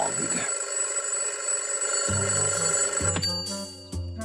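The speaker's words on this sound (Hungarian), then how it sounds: "Pato beállította a vekkerét." Alarm clock ringing in the Pocoyo cartoon, a bright repeating electronic ring over layered cartoon music, steady and close, with no talk over it.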